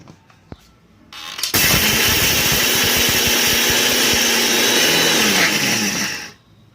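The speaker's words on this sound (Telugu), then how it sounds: "మనం ఇందాక తీసి పెట్టుకున్న మసాలా అంతా మిక్సీ వేసేసుకోవాలండి" A mixer grinder grinds masala for a fish curry, starting with a sharp jump to a loud, steady whirring roar that holds for several seconds and then cuts off abruptly.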